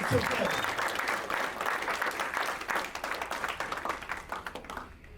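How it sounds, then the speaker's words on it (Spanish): A church congregation bursts into loud, sustained applause that thins out toward the end. Some voices mix in with the clapping. "Un fuerte aplauso."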